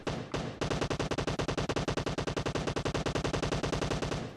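An M4 rifle in PUBG Mobile fires a long sustained full-auto burst, dozens of rapid evenly spaced shots after a couple of opening cracks, loud and close.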